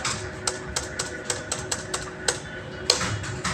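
A computer keyboard is typed on in Tally Prime: a dozen crisp, close key taps in a loose, uneven rhythm, with one sharper, louder press near the end like the Enter key.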